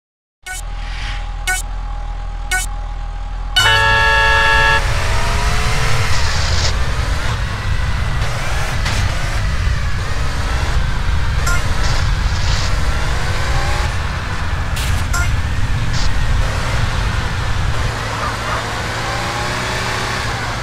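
Cars race in GTA San Andreas, engines roaring loud and continuous after a few short beeps and a start tone, with revving and shifting pitch as vehicles accelerate.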